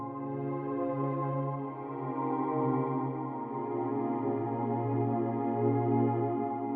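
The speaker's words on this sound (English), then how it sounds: "One of them is the Gone Fishing pad. It sounds like this." A sustained, warm synthesizer pad from a rompler workstation plays alone, holding layered tones that swell gently without pause.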